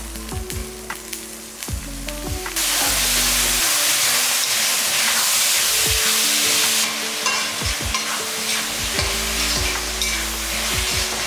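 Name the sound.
sautéing tomatoes and onions in a pan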